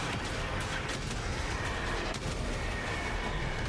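A dinosaur explodes in the Honkai: Star Rail video game with a dense, continuous roar of booming blasts and crashing debris that stays loud and unbroken for several seconds.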